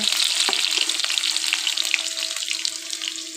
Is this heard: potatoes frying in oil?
yes